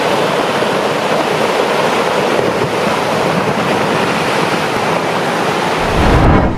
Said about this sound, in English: Due to heavy rains and rising river waters in Shikarpur, India, this house is slowly being submerged and destroyed.